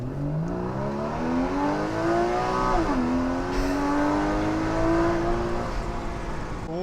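A 2015 Porsche Cayman GTS with PDK pulls hard from inside the cabin, its engine note climbing steadily, dipping briefly on a quick upshift, then rising again as a loud, continuous wail.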